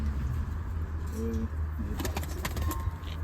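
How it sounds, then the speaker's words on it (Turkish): Soft pigeon coos, a couple of low repeated calls, over steady background rumble with a few brief clicks and chirps. "Bu çok iyi bir kuştur."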